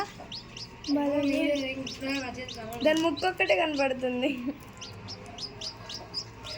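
Rapid, repeated high-pitched peeping of a newly hatched chick, close by, continuing steadily while people talk over it.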